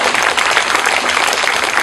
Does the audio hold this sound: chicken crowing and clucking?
no